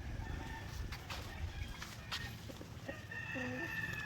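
Asil chickens on a farm: hens cluck in short bursts and a rooster gives a brief crow, all soft and slightly distant over low background rumble and a faint voice.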